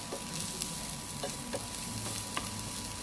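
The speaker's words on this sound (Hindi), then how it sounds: "हम पहले ऐड करेंगे जूलियन ओनियंस. अच्छे से सौते करेंगे इसको." Julienned onions sautéing in a pan, a soft, constant frying sizzle with a few light, evenly spaced stirring taps underneath.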